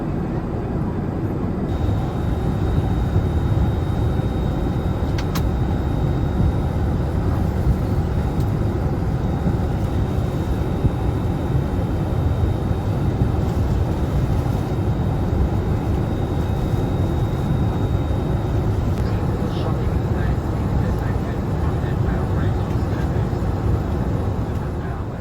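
Steady, loud broadband roar fills the economy cabin of an older Jetstar Boeing 787 in flight, an unbroken drone of engine and airflow noise with no talk.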